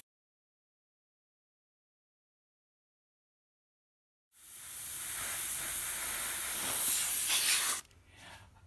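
A repaired, freshly polished airbrush needle back in the same airbrush gives a steady, close hiss of air spraying for about three seconds after silence, then cuts off abruptly, leaving a faint softer hiss.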